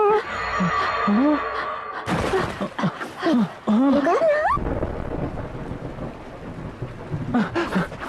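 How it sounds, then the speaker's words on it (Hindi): Rain falls with thunder in a Hindi-dubbed Pokémon animated movie. A steady wash of rainfall carries deep rumbles, while voices speak over the first half before the downpour continues alone. "बारिश।"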